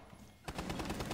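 Submachine gun fire in a video game, a quiet lead-in and then a rapid burst of closely spaced shots, loud and continuous through to the end.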